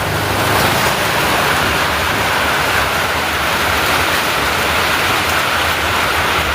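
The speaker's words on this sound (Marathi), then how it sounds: "विजांचा कडकडाट चालू आहे आणि पाऊस पण भरपूर चालू आहे" Heavy unseasonal summer rain pours down in a dense, loud, unbroken roar that holds steady throughout, with no distinct thunderclap standing out.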